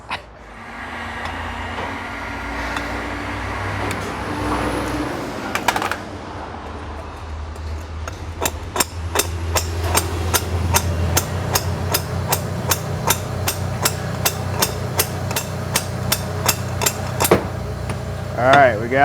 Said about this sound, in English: Let me see if I got a small enough blind bearing puller.